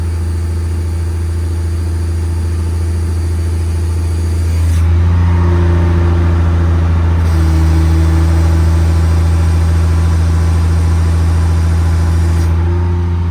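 A 2007 Freightliner M2 crane truck engine runs at a steady loud idle, then is raised to a higher idle through the cruise control to speed up the hydraulics, holding a constant drone with a brief dip.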